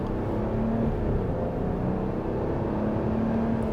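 2025 Ram 1500 Laramie with a twin turbo V6 accelerating at half throttle, heard from the cabin as a steady low engine drone with a faint rising whine, no talking.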